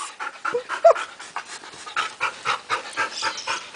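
A pet dog pants rapidly and loudly up close in a steady, rhythmic run of short breaths, with a brief whimper near the start.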